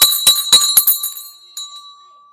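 A stock market closing bell rings in several quick, bright strikes, each ringing out with a sustained metallic tone that fades after a final lone strike.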